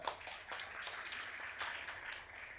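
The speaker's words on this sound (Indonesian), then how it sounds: "Tepuk tangan dulu buat Faza" Audience applause for Faza Verdana during an investment panel talk, a steady patter of many hands clapping at moderate distance, fairly quiet and continuous throughout.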